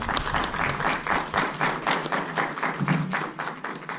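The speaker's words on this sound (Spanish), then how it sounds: "para quien le pedimos un fuerte aplauso." Conference audience applause in a lecture hall after a speaker is introduced, rhythmic pulsing clapping from a modest crowd, moderately close and continuing throughout.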